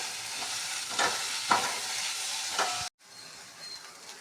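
A spoon stirring and scraping through cluster bean curry with jaggery in a pan over a gentle sizzle, a few distinct scrapes and knocks before a sudden cut, then a softer sizzle continues alone.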